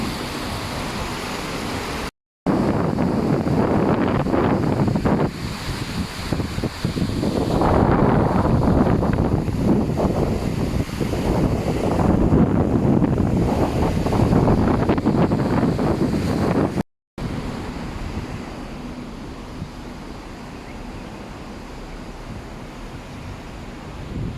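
Typhoon wind in Hong Kong buffets the microphone in heavy, continuous roaring gusts, loud and close, with brief dropouts and a steadier rush toward the end, no talk.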